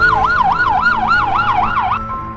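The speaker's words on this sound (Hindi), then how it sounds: "ये बोलते हुए एम्बुलेंस की आवाज आने लग जाती है, लगता है इनका एम्बुलेंस आ चुका है।" An ambulance siren wails loudly and close, its rising-and-falling tone cycling several times in steady rhythm before cutting off abruptly near the end.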